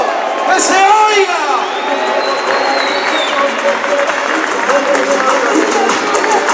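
A crowd at a competitive event applauds and cheers loudly, with whoops and shouts rising over steady clapping for several seconds. A voice carries through the noise.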